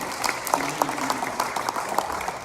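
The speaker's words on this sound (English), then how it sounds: "You can applaud that." Church congregation applauding during a worship service, a steady wash of many hands clapping with scattered sharper claps, moderately loud and continuous without speech.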